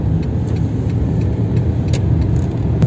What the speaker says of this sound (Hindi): रोड के ऊपर से गाड़ी जा रही है